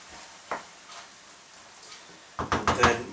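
Canned tomatoes are stirred into lamb in a pot for shepherd's pie: a faint scrape, then a cluster of wet, clattering stirring sounds near the end, close and moderately loud.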